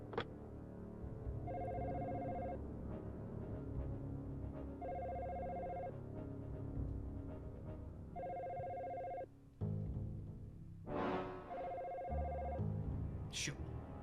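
Telephone ringing in the Dino Crisis video game, a repeating electronic ring in four evenly spaced bursts over game background sounds, with a brief noise burst near the end.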